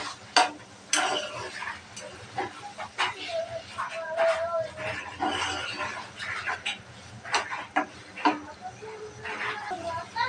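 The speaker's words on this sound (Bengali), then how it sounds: "দিয়ে দেব পেটিটা মশলার সাথে মিশিয়ে নেব।" Beef tripe is stirred into fried spices in a pan: irregular scraping and clinking of a spoon against the pan, fairly quiet and close, with a soft voice now and then.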